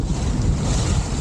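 Strong wind and breaking waves at sea aboard a sailing boat off the English south coast, a loud continuous roar of gusts buffeting the microphone.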